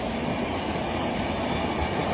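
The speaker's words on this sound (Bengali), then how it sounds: "ইতিমধ্যেই ডাউন দার্জিলিং মেল একদম ঝড়ের গতিতে বেরিয়ে যাচ্ছে" Down Darjeeling Mail train speeding past at a crossing, a loud, steady roar of wheels and carriages rushing close by, no talk.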